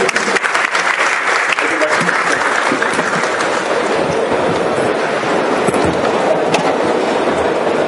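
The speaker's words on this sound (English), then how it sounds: "Can we please give a big round of applause for Shri Prakash ji?" A large audience at a startup event gives a big round of applause as a speaker is invited on stage, dense sustained clapping filling the room steadily from start to finish with no talk over it.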